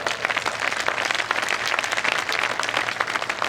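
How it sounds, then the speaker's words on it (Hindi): Sustained audience applause at a Hindi poetry recital, a kavi sammelan, with dense continuous clapping that stays steady and loud throughout, without talk over it. "जब अच्छी पंक्ति आए, हाथ उठने चाहिए, तालियां बजनी चाहिए। एक बार बजा कर दिखाओ।"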